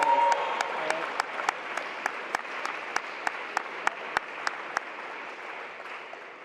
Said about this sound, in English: So I just want to give a round of applause for